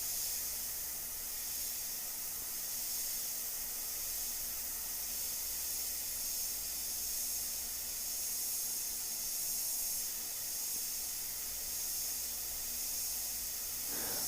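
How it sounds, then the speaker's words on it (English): Airbrush spraying black paint lightly over small model buildings, giving a steady soft hiss of air that runs unbroken and even for the whole stretch. "take advantage of the airbrush here and just really lightly kind of just go over them"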